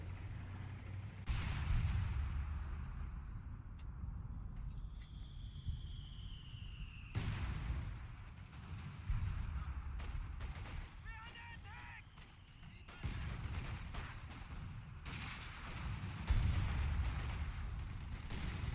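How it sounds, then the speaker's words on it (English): Artillery in a WWII strategy game set in the Battle for Caen: repeated heavy booms and crashing blasts land every few seconds, some close and loud, others more distant, with rumbling decay between them. "See, artillery going down, I don't know where though"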